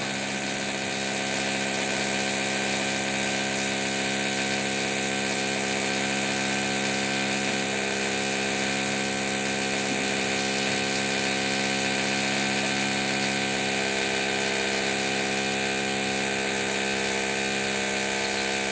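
A jackhammer pounds away close by as a steady, loud mechanical drone with dense horizontal banding, continuous and unbroken for the whole stretch, with no voices over it.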